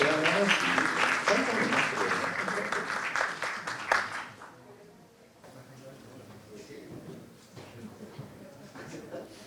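An audience at a university lecture event bursts into loud applause for a raffle winner, dense clapping that fades out after about four seconds, leaving quieter murmuring and a voice speaking.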